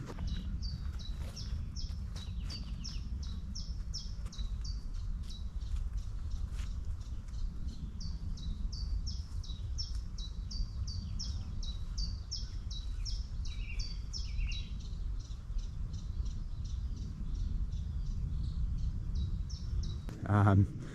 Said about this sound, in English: I'll put a clip in a minute just so you can hear some of the bird song